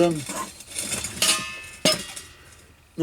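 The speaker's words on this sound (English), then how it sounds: "when I put my billy can in there, yeah, that's better, fits perfect now" Metal billy can set into an Ikea multi-fuel hobo stove with a penny stove inside, producing a few sharp metallic clanks and clinks, close and fairly loud, with brief talk at the start.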